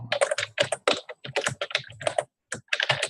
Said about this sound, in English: Got a loud keyboard.